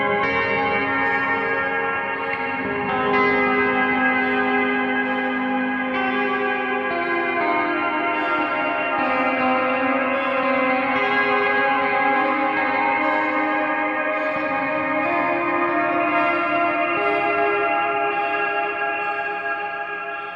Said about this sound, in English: the parameter is controlling the amount of reverb and simmer that you hear